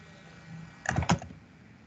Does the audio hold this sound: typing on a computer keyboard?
yes